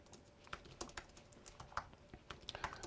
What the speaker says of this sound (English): And maybe I won't talk as I type